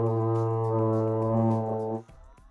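Euphonium played with the cheeks puffed out, a single sustained low brass note held for about two seconds, fairly soft and slightly diffuse, then breaking off into quiet room sound.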